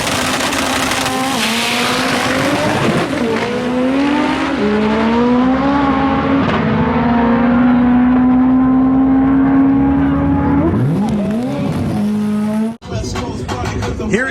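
A Dodge Charger drives past at an import car show, its engine a loud, sustained roar that climbs in pitch as it accelerates, with some tire noise, then briefly cuts off and resumes near the end.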